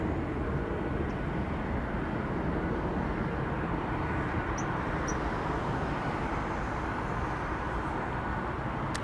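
Delta Boeing 767 airliner landing at Los Angeles International Airport, a steady broadband jet roar that stays constant and fairly distant throughout, with no voices.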